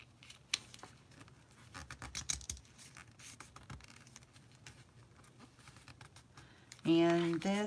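Paper creasing and scraping as a sheet is folded over from the center for origami, a series of faint, irregular rustles and taps close by, with a voice starting to talk at the very end.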